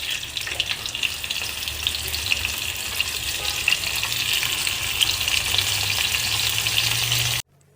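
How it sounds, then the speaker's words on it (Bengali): Tomato sauce mixed with dried chili powder in a hot pan, giving a dense, steady frying sizzle with soft stirring scrapes close by, continuous until it cuts off abruptly near the end, with no talking. "টমেটো সস এবং শুকনো মরিচের গুঁড়া একসাথে দিয়ে ভালো মতো এটাকে মিক্স করে নেব"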